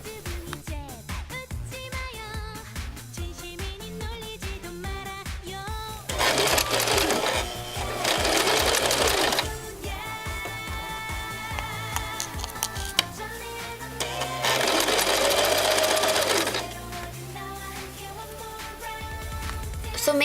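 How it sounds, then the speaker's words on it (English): A sewing machine stitches the two ends of a floral spring infinity scarf together, running in steady rhythmic bursts with louder, denser stretches between quieter pauses, close and alone with no talk. "So make sure to keep matching up the two ends of the fabric and then sewing it together."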